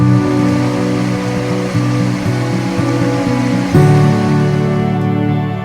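Creek water rushing steadily along the hiking trail at Cascade Lodge on Lake Superior's shore, a loud continuous wash of flowing water with no voices.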